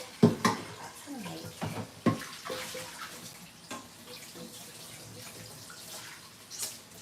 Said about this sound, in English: Let's rinse out this pie.